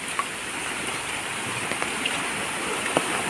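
Steady rushing floodwater after heavy rain, a continuous broad hiss of flowing water near a small bridge, with faint scattered ticks and no voices.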